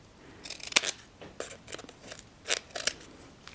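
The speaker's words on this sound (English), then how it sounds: "next thing I'm going to do is simply trim off the bottom" Scissors snip repeatedly through the bottom edge of a cone stand being trimmed, a series of crisp, close cuts at an uneven pace with no talk.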